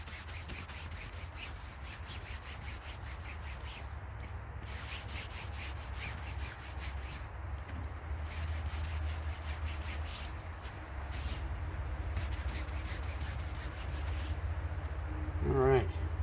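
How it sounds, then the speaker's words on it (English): A wet sail soaked with Windex is scrubbed in a steady, continuous rubbing wash that carries on throughout, loud and close, growing slightly stronger toward the end, with some speech-like sound mixed in. "Now I'm going to go ahead and scrub it."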